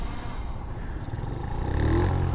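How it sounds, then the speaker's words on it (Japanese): A Honda Magna 50 motorcycle engine starts nearby, a low rumbling drone that builds and grows louder toward the end as the small engine catches and revs. "エンジン始動。"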